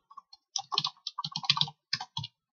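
Fingers type code on a computer keyboard in quick irregular bursts of close, crisp key clicks with short pauses between words.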